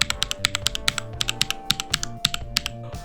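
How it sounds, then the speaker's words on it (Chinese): Typing on a LANGTU LT104 mechanical keyboard with pre-lubed silver-grey switches, EPDM and IXPE foam dampening and a silicone bottom pad: a quick, even run of crisp, close keystrokes, about five to six per second, with no talking. "首先我们来听一听这个键盘敲击的声音"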